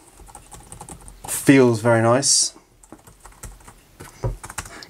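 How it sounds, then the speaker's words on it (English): Typing on a Lenovo ThinkPad T14 Ryzen 5 laptop keyboard, soft rapid key clicks running under and after a man's spoken remark, fairly close and moderately quiet. "Thinkpad keyboard, see if there's any power in there."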